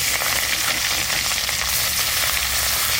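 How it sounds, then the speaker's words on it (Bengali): Turmeric-coated tangra or rita river fish from the Sundarbans fry in hot mustard oil in a kadai. A loud, dense, continuous sizzle crackles close up without a break, with no talking. "সর্ষের তেল, মাছটা ভাজা করবো"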